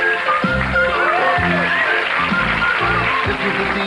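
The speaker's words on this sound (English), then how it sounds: "The opening theme to Garry Show." Opening theme music of the comedy program It's Garry Shandling's Show, a loud, rhythmic band piece with steady bass beats and bright melodic lines playing continuously.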